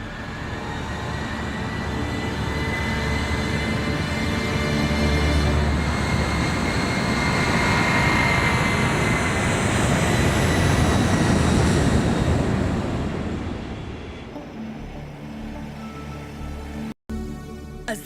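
An airliner on a London to Sydney flight takes off, a loud broad roar of engines and rushing air that holds steady for many seconds, then thins and drops away near the end.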